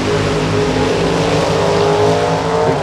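Drag race cars at a Topeka drag racing event, a loud close engine roaring and revving hard with a sustained high-pitched whine as it accelerates, steady and intense throughout.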